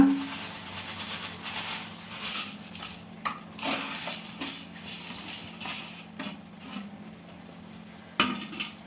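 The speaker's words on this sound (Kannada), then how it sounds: "ಈ ಕುದೀತಾ ಇರೋ ನೀರಿಗೆ ಹುರಿದಿಟ್ಕೊಂಡಿರೋ ಶಾವ್ಗೆನ ಹಾಕೋಣ" Roasted vermicelli tipped into salted water at a rolling boil in a pot, with metal spoon and pot clatter, rustling, scraping and sizzle-like bursts in a busy, fairly close kitchen, no talk.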